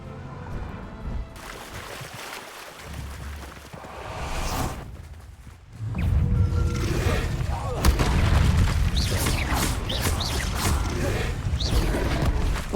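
Spell explosions in Hogwarts Legacy, Bombarda blasts erupting as loud rumbling booms with swooshes amid ongoing combat noise, while a player talks over the action.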